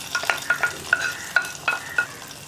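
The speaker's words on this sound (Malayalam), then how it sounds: "അപ്പോൾ നമുക്ക് ഈ വറവ് കറിയിലേക്ക് ചേർക്കാം" Hot tempering for a Kerala pumpkin pachadi is poured into the curry and stirred, giving a run of sharp sizzles and crackles with spoon scrapes, fairly close and bursting every fraction of a second.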